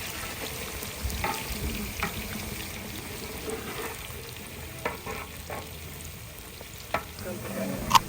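Three kilograms of onions fry and get stirred in a large pot for degi-style rice, with a steady sizzle under irregular scraping strokes and occasional sharper clinks, close and moderately loud throughout.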